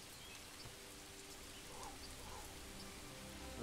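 Gentle rain drizzles over a medieval village in the game Manor Lords, a faint, soft and steady hiss of light drops with no voices.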